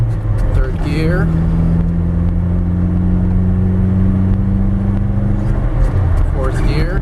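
From inside the cab, a 1995 Nissan D21 Hardbody pickup's engine pulls hard in third gear, a loud steady drone rising in pitch, with a brief gear-change dip near the end.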